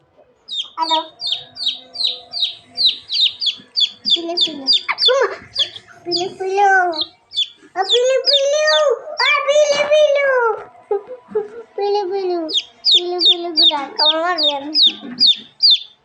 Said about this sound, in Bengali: এগুলো কি তোমার মুরগির ছাও?